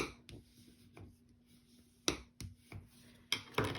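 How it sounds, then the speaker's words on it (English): A bone folder creasing a paper flap on a card craft: several quiet, sharp scraping and tapping strokes close by, spaced irregularly over a faint hum. "get a good crease in using your bone folder"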